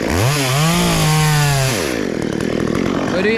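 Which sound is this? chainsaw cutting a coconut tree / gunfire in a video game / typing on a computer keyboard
chainsaw cutting a coconut tree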